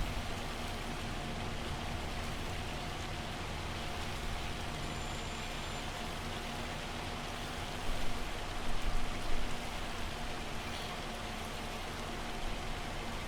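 Hail pours down steadily in Farming Simulator 25, a dense, even rattling hiss over a flat field with no breaks and no voices, only slight swells near the end.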